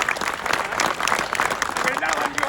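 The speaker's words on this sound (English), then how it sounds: "you all deserve a round of applause." A crowd at an outdoor memorial service in Middleton Memorial Gardens breaks into sustained applause, a dense, steady patter of many hands clapping at moderate distance.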